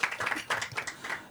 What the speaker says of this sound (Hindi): जोरदार तालियों के साथ इनका स्वागत किया जाए